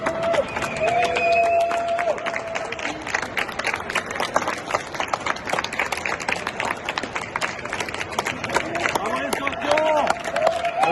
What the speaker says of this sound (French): C'est la première fois que je me fais applaudir avant de donner mon coup de cœur